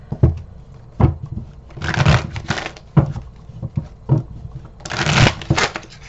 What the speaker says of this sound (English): Whoa, that was a terrible shuffle.